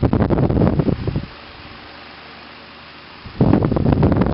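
A hard-wired electric fan runs at fast speed, filling the space with a loud, steady broadband whoosh. It drops to a softer hum for a couple of seconds midway, then surges back to full strength.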